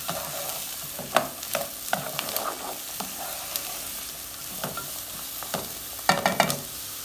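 Bell pepper frying in a pan for stuffed eggplant, with a steady sizzle broken by repeated scraping and clattering stirring strokes, close up and with no talking.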